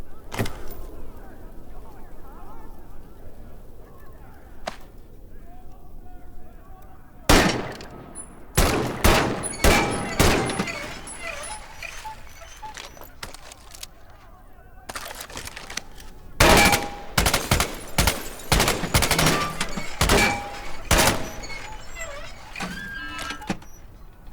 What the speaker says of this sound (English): Bolt-action rifle, so you reload by pulling and pushing the bolt after each shot.